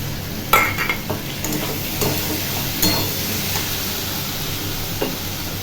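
Fish pieces dropped into a pan of frying potatoes, giving a steady sizzle with sharp metallic clinks and scrapes of a spatula against the pan, close by and without any voices.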